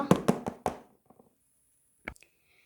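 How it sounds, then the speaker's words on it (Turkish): Three quick knocks on a door, sharp and close, then a pause and a faint second tap pair, with no voices. "Aa kapı çalıyor."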